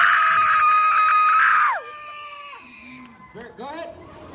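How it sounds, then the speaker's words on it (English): At a haunted Halloween fright fest in an amusement park, a loud, high scream cuts off after about two seconds. Fainter, wavering cries and voices trail after it. "All right, everyone, big scream from everybody."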